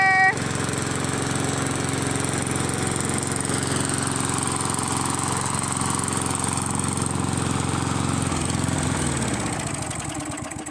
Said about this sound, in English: these old lawnmowers ain't no good